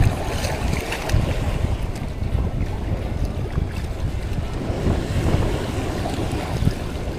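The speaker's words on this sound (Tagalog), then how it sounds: "Oh, laki ng alon." Big sea waves slosh and surge around a small fishing boat out on open water, a rough, continuous rumble with strong wind buffeting the microphone and no voices.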